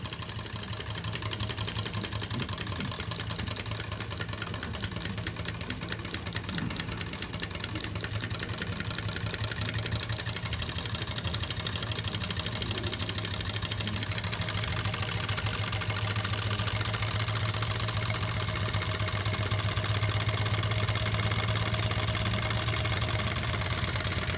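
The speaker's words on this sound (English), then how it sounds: "Water pumping engine." A water pumping engine idles steadily with a low, constant rumble and faint rhythmic knocking, running without pause and slightly louder toward the end.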